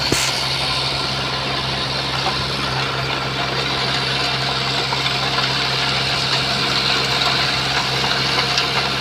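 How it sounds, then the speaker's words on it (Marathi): An unmanned tractor engine idles and chugs continuously, a close, even diesel rumble with slight vibration that holds steady for the whole stretch, with no voices. "बघा हो ट्रॅक्टर एकटा चालला आहे"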